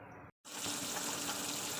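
Fish sizzles steadily in hot oil in a home kitchen, a dense hissing crackle that stays close and even after a brief moment of silence at the start.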